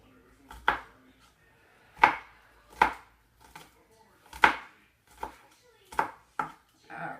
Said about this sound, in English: then we're just going to chop the garlic up into nice little pieces.